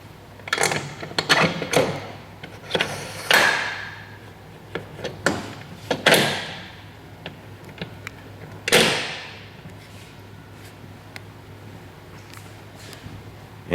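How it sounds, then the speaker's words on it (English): Motorcycle rear axle being slid back into place through Lightech chain adjusters, heard as a series of close metallic clicks, knocks and scraping taps, irregularly spaced with quiet gaps in between. "Now we're ready to slide the axle back into place."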